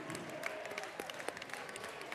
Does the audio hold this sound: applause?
yes